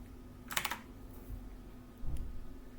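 Computer keyboard keys pressed to send a print command for a selected print area in an Excel spreadsheet: a quick cluster of soft clicks, then a single fainter keystroke, close by and quiet with no talking.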